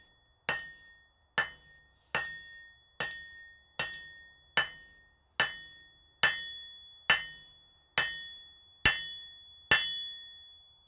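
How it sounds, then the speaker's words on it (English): A blacksmith's hammer strikes hot metal on an anvil in a smithy, twelve sharp ringing blows at a slow, even pace, each with a bright metallic ring that decays before the next, with no talk. "Oh, it's so nice working with this hammer."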